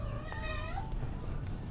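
A pet cat meows close by, a single drawn-out call with a rising-then-falling tone, heard alone over a low steady background hum.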